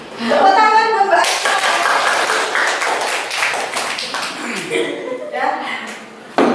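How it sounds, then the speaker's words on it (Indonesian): A classroom group claps to praise a student during a teaching session, giving a lively burst of hand claps mixed with voices that tapers off before speech resumes. "Tepuk tangan buat Mbak."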